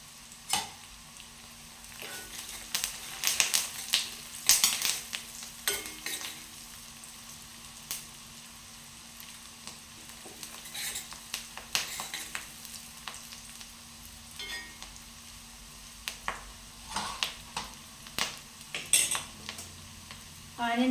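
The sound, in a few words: onions and curry leaves frying and being stirred in pan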